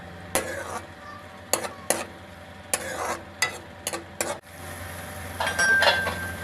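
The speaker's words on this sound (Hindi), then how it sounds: "प्याज हमारा अच्छी तरह से फ्राई हो गया है।" Onion frying in hot oil in a kadhai, a steady close sizzle broken by sharp scraping knocks of a spoon stirring against the metal pan, and the frying swells louder toward the end.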